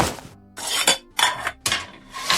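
Dishes, pots and pans clatter and scrape in bursts with short pauses, close and fairly loud, with no voices over the clanking.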